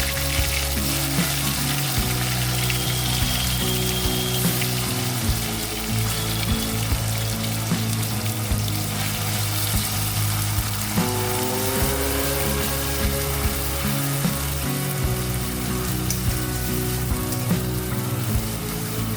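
Onion paste fried in oil tempered with cumin gives a loud, dense, continuous sizzle close up, with stirring scrapes running through it.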